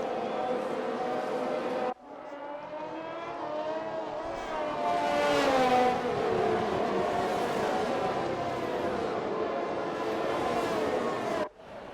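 Formula 1 cars racing at Monza in a racing video game on intermediate tires, a steady engine whine rising and shifting in pitch for about ten seconds, bracketed by abrupt cuts, with no talking.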